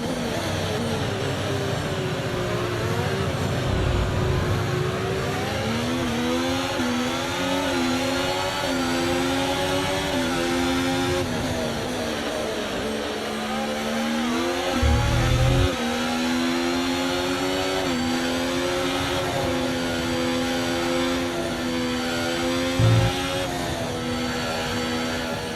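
Formula 1 car engine in a racing video game, lapping the Jeddah street circuit in Saudi Arabia; a loud, steady high-pitched whine that rises and falls with gear shifts and throttle, with brief low thumps, no talk.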